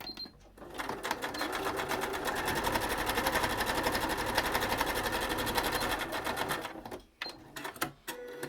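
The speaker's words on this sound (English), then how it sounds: "You're going to untuck that fold and stitch right in the ditch of the fold through all these layers." Sewing machine running a long, steady stitch line through folded bias tape and layered fabric on a pleated mask, a fast even rattle close by that stops into a few faint clicks.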